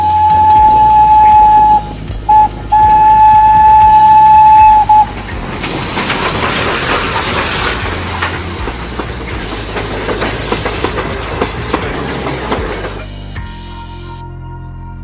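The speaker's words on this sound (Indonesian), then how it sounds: "Kereta Thomas." A Thomas toy train sounds a loud steam whistle in repeated bursts over its rhythmic chugging, followed by a long hiss of steam and more chugging.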